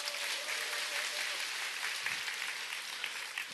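A crowd at a network marketing seminar claps briefly in a dense, steady patter, heard fairly softly and alone throughout.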